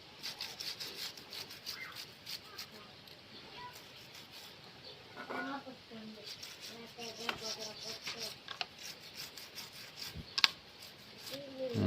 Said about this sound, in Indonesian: Kita gosok terus motornya, motor sport.